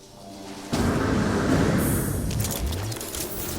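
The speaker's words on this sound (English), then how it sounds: "Incoming storm." A sudden deep rumbling boom from an incoming storm in No Man's Sky, bursting in loud and rolling on for several seconds with crackling texture before slowly easing.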